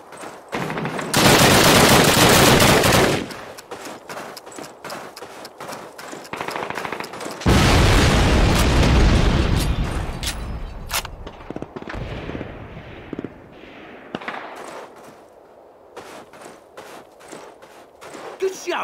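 Loud bursts of automatic gunfire and an explosion in the 2003 video game Call of Duty, with sustained rapid volleys, a big blast roaring mid-clip, then scattered shots and footsteps fading toward quieter battle noise.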